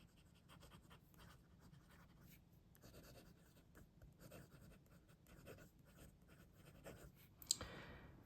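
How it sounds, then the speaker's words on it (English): A fountain pen with a gold nib writes on paper in continuous soft scratchy strokes, quiet and close, with small pauses between words and one sharper tap near the end. "Let's do some writing."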